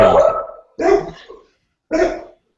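Three loud, close dog barks, evenly spaced with short silent gaps between them.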